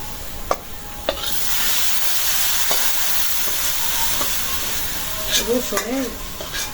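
Native chicken meat with ground spice paste sizzles steadily in a pan, a continuous hiss broken by occasional clinks of stirring, with a brief voice near the end.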